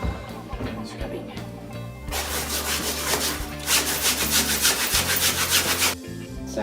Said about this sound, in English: Scrubbing.